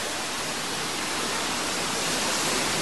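Floodwater rushes down a mountainside during heavy rains in Ecuador's highland provinces, a loud, steady broadband roar that holds for several seconds without speech.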